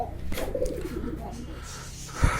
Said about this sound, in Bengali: দেখতে পাচ্ছেন আমার এই যে কবুতরগুলো এইখানে কিছু আছে এইখানে কিছু আছে